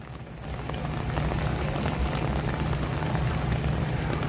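Steady rain at Islands of Adventure in Universal Orlando, a dense even hiss of drops on surfaces with a low rumble underneath, continuous and unbroken with no voices.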